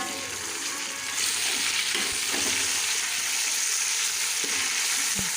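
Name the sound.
beef frying in pan with ginger garlic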